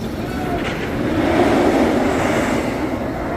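Mr. Freeze roller coaster train at Six Flags Over Texas climbs the lift hill with a loud, steady mechanical rumble and faint clatter that swells slightly midway and holds close.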